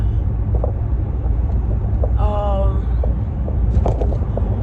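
Car driving along a road on Thanksgiving, heard from inside the cabin as a steady, loud low rumble with a brief tonal whine partway through and a few small clicks.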